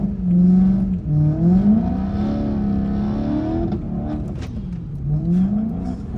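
A 700 hp BMW M3 E90 engine climbs a snowy mountain road, its loud, close exhaust note rising and falling steadily through varying revs with no talk over it.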